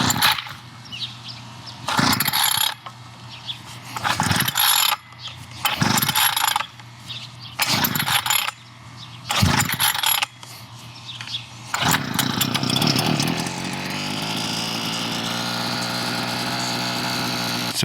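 Harbor Freight Predator auger engine being pull-started: several loud, separate ratcheting rope pulls with pauses between them, then the small engine catches and settles into a steady close running drone.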